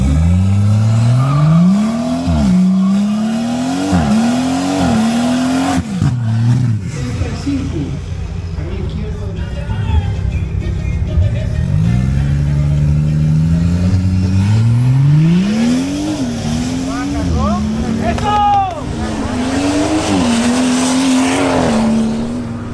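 A BMW M240i launches down a drag strip, its engine revving hard through repeated rising sweeps as it shifts gears, loud and close, with some tire noise and a voice talking over it.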